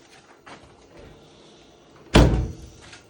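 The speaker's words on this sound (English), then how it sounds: "Door shuts good." A Mazda Miata car door shuts once with a solid, loud thunk after quieter handling sounds.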